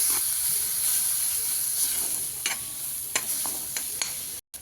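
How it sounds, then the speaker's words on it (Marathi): Grated coconut is stirred and roasted in a pan for an egg curry, with a bright steady hiss and a few distinct spatula scrapes, near and alone, ending in a short abrupt cut. "आता थोडंसं हलवून घेऊया लाल होईपर्यंत"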